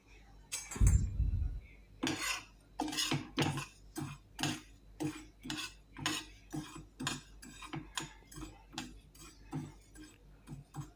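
Roasted flax seeds are scraped and tipped from one bowl into another, a steady run of light metallic ticks and clinks at an even rhythm after a brief low thump near the start.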